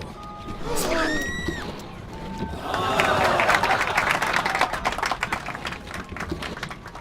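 A crowd in the video game Blues and Bullets breaks into applause that swells into sustained clapping, with some cheering, following a few sharp sounds and voices.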